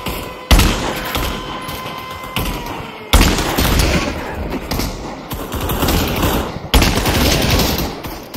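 In a shooter game, loud bursts of close gunfire roll almost continuously, punctuated by three sharp heavy blasts, one near the start, one midway and one near the end, with no voices heard.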